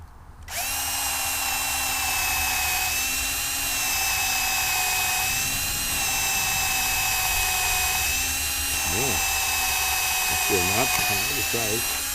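A power drill whines steadily at high pitch for about eleven seconds while drilling a pilot hole in cracked wood for a coop floor, with brief bursts of speech near the end.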